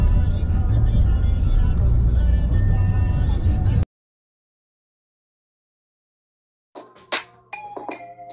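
A Camaro with a 3.73-geared rear end drives along, heard from the dash: a loud, steady low engine and road rumble that cuts off abruptly, then sparse faint clicks and knocks.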